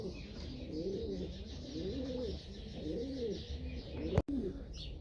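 Racing pigeons cooing in a loft, repeated soft rolling coos in a steady rhythm, close and moderately loud over a low background hum, with one sharp click near the end.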